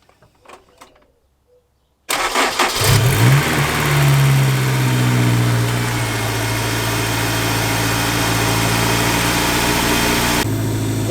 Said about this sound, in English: I'm going to fire the car up really quick